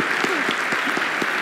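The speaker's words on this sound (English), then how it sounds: "That is officially the biggest round of applause we've had this entire conference" Brief burst of audience applause at an engineering and healthcare workshop during a global summit, steady clapping throughout with a couple of faint voices underneath.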